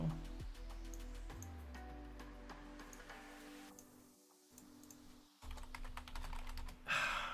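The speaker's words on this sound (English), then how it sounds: "why is he typing?" Rapid clicking keystrokes on a computer keyboard, tapping in irregular bursts with a brief pause midway, close and fairly quiet.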